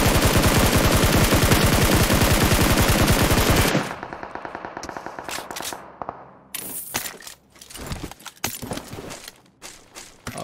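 A SCAR assault rifle in PUBG Mobile fires a long, loud, rapid automatic burst, then breaks into shorter scattered shots and clinks.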